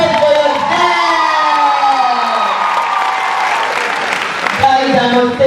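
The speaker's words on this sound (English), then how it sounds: "A round of applause for yourself!" A youth crowd at Google's Fuel For Your Hustle event in Abeokuta bursts into loud applause with cheers and whoops, sustained for several seconds before voices cut through near the end.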